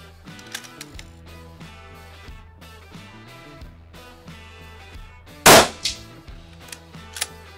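Rifle shots fired at a range while zeroing a riflescope: one loud sharp crack near the middle, then a few quieter clicks and knocks over faint background noise.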